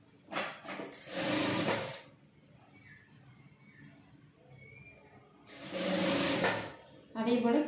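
A sewing machine stitches fabric in a tailoring class, two loud whirring runs of rapid needle chatter, each about a second or more, separated by a quieter stretch where someone talks.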